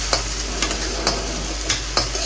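Ginger paste frying in oil, a steady close sizzle broken by a few sharp scrapes of a spoon stirring the pan at irregular intervals, with no voices.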